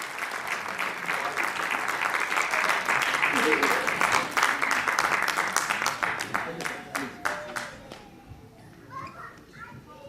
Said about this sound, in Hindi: एक बार मिलकर तालियां बजाएं डॉक्टर मुकेश को